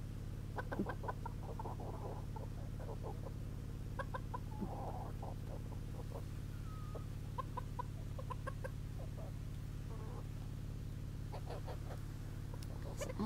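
Silkie chickens cluck in short, scattered bursts while eating fruit, several birds close by over a steady low background hum.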